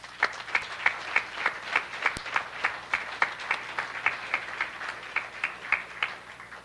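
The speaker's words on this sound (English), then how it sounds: "I would like you all to give yourselves a round of applause" Handlers at a canine graduation ceremony applaud themselves; the clapping is steady and rhythmic with regular distinct beats, as if a few people clap in unison, moderately close with no talking.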